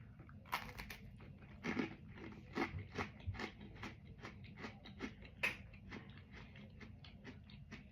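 Crisp, crunchy bites and close chewing of a Coca-Cola flavored Oreo cookie repeat in a quick, irregular rhythm, quiet and alone with no talk.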